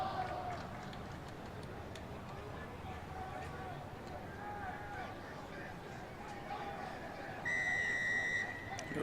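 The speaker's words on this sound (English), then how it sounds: "The referee blows his whistle, starts time" A rugby referee's whistle starts the second half of a championship match, sounding as one bright sustained blast near the end over crowd murmur, with a commentator talking throughout the open-field ambience.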